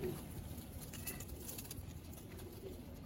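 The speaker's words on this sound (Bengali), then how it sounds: "এই যে একটা কালারিং কবুতর" A coloured fancy pigeon coos softly from nearby in a Bangladeshi loft, its low murmuring calls over a steady rushing background.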